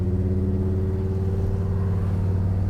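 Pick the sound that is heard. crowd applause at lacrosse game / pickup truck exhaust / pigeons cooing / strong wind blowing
pickup truck exhaust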